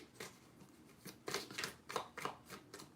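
Tarot cards are shuffled in quick riffling bursts, crisp and close, repeating several times with short pauses between.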